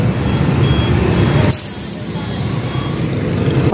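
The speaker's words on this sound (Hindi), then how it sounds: "से हम गाड़ी की आवाज़ चेक करा रहे हैं" Vehicle engine being run for a sound check, heard as a loud, steady broadband rumble with low-end throb throughout, a sharp shift in tone partway, and some hiss above.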